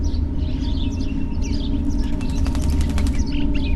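Wings flap in quick bursts with faint chirps over a steady low ambient drone in the video game Martha Is Dead, a rapid fluttering flurry standing out near the end.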